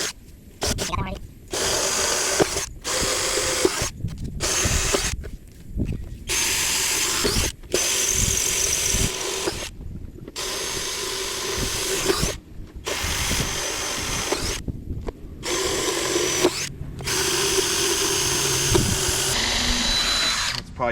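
A power drill bores out rivets while a wood floor goes into a 39-year-old cabover truck, loud whining bursts broken by short pauses repeated about a dozen times, up close.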